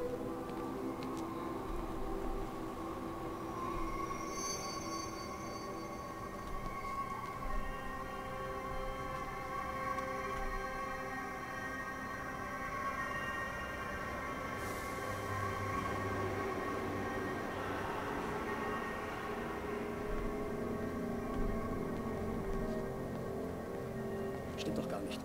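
A train at a railway station in the video game Everybody's Gone to the Rapture gives a steady low rumble with tonal hum that runs the whole time, while voices talk over it.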